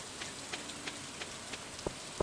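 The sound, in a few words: rain in the video game Stardew Valley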